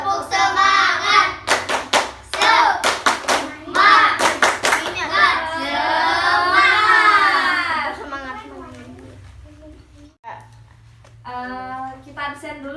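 Schoolchildren in a classroom doing the 'tepuk semangat' clapping ice breaker: bursts of rhythmic group hand claps mixed with children's chanting voices, loud and close, with a teacher speaking briefly near the end.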